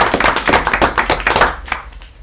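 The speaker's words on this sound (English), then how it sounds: "why don't we give Marilyn a round of applause for her service" A council meeting audience gives a round of applause, a dense burst of many hands clapping close by that tapers off toward the end, with no talking.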